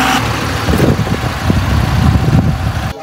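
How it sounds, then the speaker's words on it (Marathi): A car rolls past on a steep downhill road of the Naneghat pass in Maharashtra, a steady close engine rumble that stays loud for about three seconds before cutting off abruptly. "आणि तिकडे एकदम खाली गाडी गेली."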